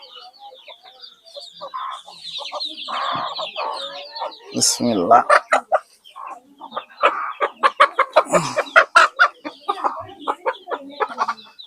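A rooster and a hen at a village home cluck close by in quick, uneven bursts that grow busier toward the end, with a person speaking briefly.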